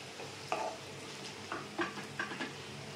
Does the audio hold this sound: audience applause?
no